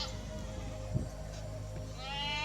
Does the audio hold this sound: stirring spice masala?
no